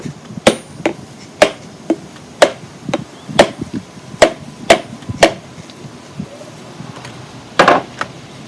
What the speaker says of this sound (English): just hitting it with a hammer in the middle of the coconut, and it will start to split.